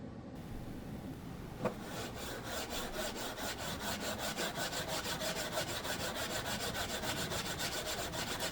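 Sandpaper works back and forth over a Brazilian rosewood fretboard on a 1930s S.S. Stewart guitar, making a quiet, steady rhythmic rasping close by, with a single small knock near the start.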